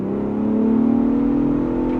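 A 2024 Ford Bronco Raptor accelerates hard, its engine drone rising steadily in pitch, loud and close, with no voices.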